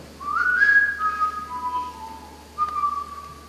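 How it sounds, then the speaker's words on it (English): Someone whistles a short melodic phrase, a few clear sustained notes sliding between pitches, then a brief pause and one more note, close and alone. "Nobody has to show you how to use your lips in whistling."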